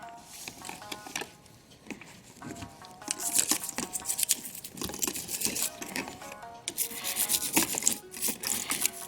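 Music box clock parts being scrubbed with a toothbrush, close, quick bristle strokes in uneven runs with short pauses between, and no talking.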